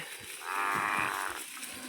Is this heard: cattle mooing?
yes